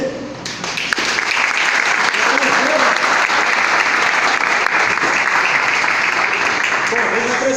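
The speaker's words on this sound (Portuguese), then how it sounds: "Vale a pena um aplauso para o meio." An audience at a motivational talk breaks into loud, sustained applause that swells in the first second and holds as a steady wash of many hands.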